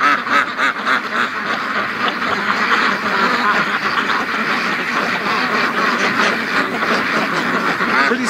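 A loud, dense chorus of quacking from Muscovy and other free-range ducks on an icy lake, with overlapping calls running continuously from start to finish.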